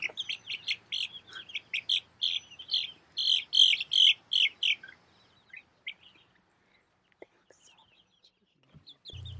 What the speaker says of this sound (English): the chickens were using their alarm chirp